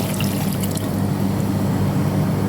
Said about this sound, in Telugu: ఇప్పుడు నీళ్ళు వేసుకున్నామండి.